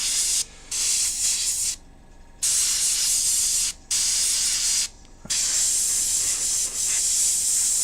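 Hobby airbrush spraying paint fed by a small compressor, a loud close hiss in repeated bursts of one to two seconds separated by short pauses.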